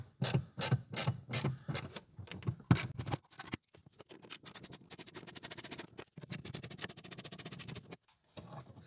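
Screws on the cabin air filter cover of a VW New Beetle 2.0 are worked loose by hand, giving a close series of short scraping, rasping turns in bursts with brief pauses, no talking.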